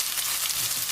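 Asafoetida dropped into hot oil with soaked moong dal, a brief continuous hiss of sizzling, close and fairly loud, no voices.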